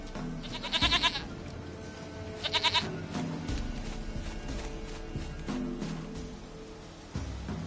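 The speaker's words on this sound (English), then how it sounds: "Goat of mine, dearest, sweetest goat." A goat in The Witcher 3 gives two loud, quavering bleats close by, over a soft background rumble and some faint game sounds.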